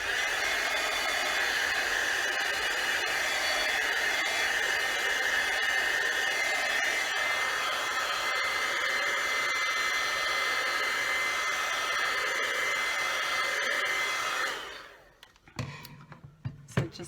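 A heat tool blasts a steady, loud rush of hot air for about fourteen seconds while setting neon embossing powder, then cuts off, leaving a few faint clicks and handling sounds.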